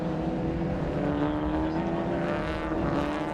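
Ford Fiesta race cars in the Scottish Fiesta Championship at Knockhill, a sustained engine roar with rising pitch as the cars pass, loud and continuous for a few seconds.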